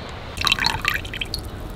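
The last few drops of water falling from a jug, a quick cluster of small wet drips and splashes lasting about a second, close and fairly clear over a quiet background.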